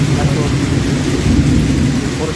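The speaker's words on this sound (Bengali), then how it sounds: "এখন বৃষ্টি আছে অনেক।" A Kalbaishakhi storm in Pirojpur, Barisal, brings heavy rain in a loud, unbroken wash, with deep thunder rumbling underneath, close and intense throughout.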